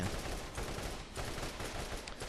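Continuous gunfire in Borderlands, aimed at the tentacles of the Destroyer boss in the Vault, forms a steady, fairly faint wash of rapid overlapping shots with no clear gaps.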